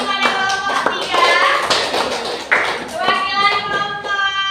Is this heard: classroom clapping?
yes